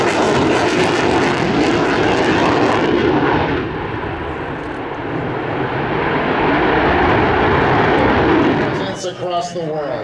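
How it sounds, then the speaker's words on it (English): An F-16 fighter jet with landing gear down roars past at an airshow, a loud, sustained broadband jet rumble that dips briefly, then swells again before fading near the end, with a voice faintly over it. "Please note the landing gear down at the F-16"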